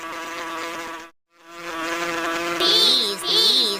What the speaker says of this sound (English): She watches the yellow and black bees buzz around.